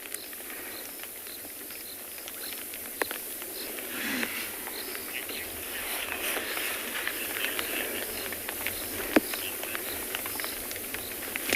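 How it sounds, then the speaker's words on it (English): Rain patters steadily on a roof during a sunset safari with elephants nearby, a soft continuous hiss of drops broken by occasional sharper drips and taps, with no talk. "You can hear the pitter-patter of raindrops falling on the roof as we're watching the elephants."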